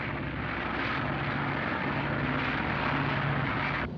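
A plane flies in a steady, droning engine roar that holds evenly for about four seconds with no voices.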